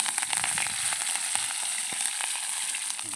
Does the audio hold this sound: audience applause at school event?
no